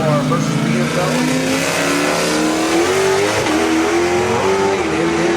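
Mopar and BMW street cars race at a street car show, engines roaring loudly and continuously with rising revs, tire noise and crowd chatter and talk mixed in.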